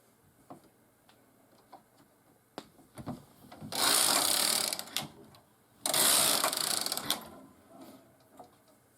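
Knitting machine carriage swept across the needle bed in two loud, rushing passes of about a second each, close up, with scattered clicks and taps of the machine before and between.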